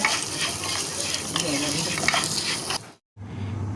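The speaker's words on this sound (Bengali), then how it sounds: "চালটা নাড়াচাড়া করে বেশ কিছুক্ষণ ধরে ভেজে নেব" Raw rice is stirred and fried in a pan over a low-to-medium gas flame, with a soft continuous sizzle and scraping. The sound cuts out briefly before resuming.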